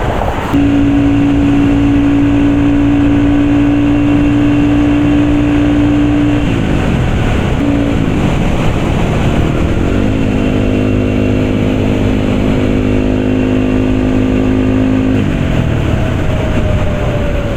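A 300cc motorcycle fitted with a 34 carburetor drones loudly and steadily while riding, holding a sustained engine tone with a brief dip and shift in pitch midway before settling back to a steady pull.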